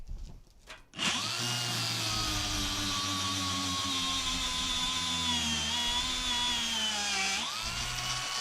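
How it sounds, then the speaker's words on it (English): An angle grinder cuts into metal angle stock with a loud, close, high-pitched whine that spins up abruptly, holds steady with slight pitch wavers for several seconds, then dips as the load eases. "We need to grind some angles."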